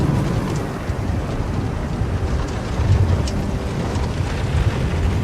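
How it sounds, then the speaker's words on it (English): Heavy rain and gusting wind arrive outdoors, a loud steady roar of rainfall with buffeting wind rumble hitting the microphone, continuous throughout with no voices. "it's fixing to rain like crazy on us here in just a second"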